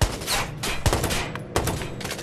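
Gunfire in the game Watch Dogs, several sharp close shots in quick bursts with short gaps between them, loud and with no talking.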